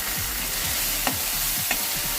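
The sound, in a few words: stirring ginger garlic chili paste frying in pan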